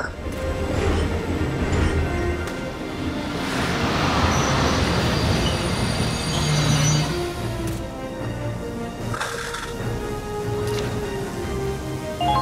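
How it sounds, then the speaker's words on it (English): A heavy armored train rumbles in a railway battle in Valkyria Chronicles 4, a loud continuous mechanical roar and clatter that swells and eases over several seconds, with no one talking. "Here for an armored train again."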